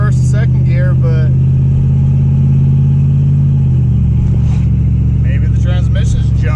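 An LS-swapped truck's engine drones steadily, then its pitch shifts partway through as the transmission slips badly, with a person talking over it.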